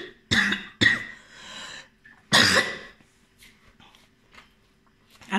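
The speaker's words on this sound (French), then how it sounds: "Excusez-moi, je vais tousser." A man coughs three times in quick succession, loud and close, the third cough longest, followed by faint room quiet during a church sermon.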